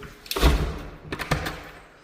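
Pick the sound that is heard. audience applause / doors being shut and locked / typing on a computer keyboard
doors being shut and locked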